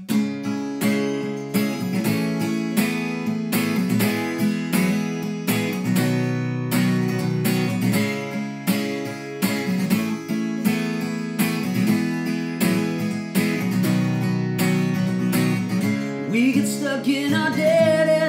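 A band plays its title track live, a full, steady mix of guitars, bass and drums with regular strong beats, ending in a swell of sustained, bending tones.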